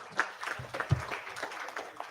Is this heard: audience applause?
yes